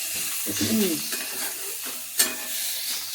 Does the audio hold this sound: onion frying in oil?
yes